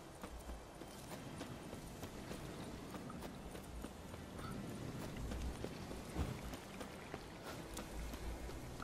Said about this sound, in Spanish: Ahí viene mi caballo.